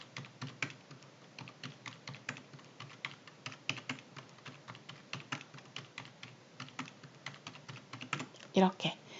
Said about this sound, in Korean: 단축키는 키보드 F2 이거 누르시면 돼요